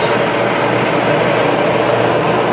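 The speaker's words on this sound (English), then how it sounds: "As the dryer tumbles." A steady, dense mechanical rumble and whir from a Kenmore electric clothes dryer tumbling close by, running without pause at an even pace.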